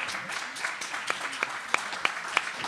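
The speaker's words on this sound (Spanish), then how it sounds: "Un aplaudiment." A small neighborhood council audience gives a brief round of applause, the scattered claps thinning out into a few distinct, louder individual claps toward the end.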